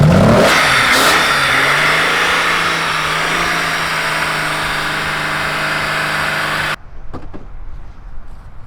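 A Norton Commando motorcycle engine runs and revs loudly and steadily close by for several seconds, then cuts off abruptly, leaving a few faint clicks and rattles.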